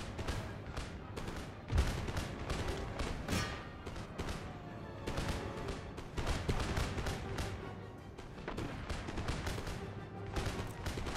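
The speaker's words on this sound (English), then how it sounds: "Men make ready and fire." Musket volley fire in Empire: Total War during a battle defending Madrid, heard as dense, continuous rolling crackle and booms of many guns layered over one another, fairly faint and distant in the battle din.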